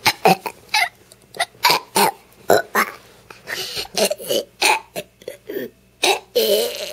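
A young child burps repeatedly in short, loud bursts, each eructation separated by brief pauses, close to the listener and with no other voices.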